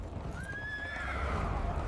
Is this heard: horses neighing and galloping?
yes